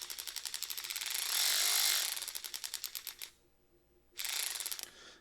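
A Ryobi 4V lithium cordless 3/8-inch ratchet runs up close, a fast buzzing motor with rapid clicking ratchet pulses that swell, stop briefly, then resume, with no talking.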